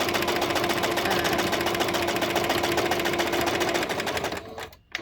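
A sewing machine runs steadily and loud, stitching pieces of material together with a fast, even mechanical whir, then slows and stops near the end, no voices.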